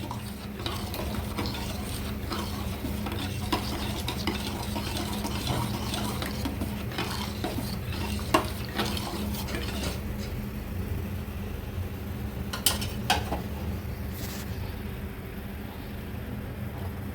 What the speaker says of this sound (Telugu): పోసుకున్న తర్వాత గరిటెతో చాలాసేపు కలుపుకోవాలి, ఎందుకంటే ఉండలు కట్టుకునే అవకాశం ఉంటుంది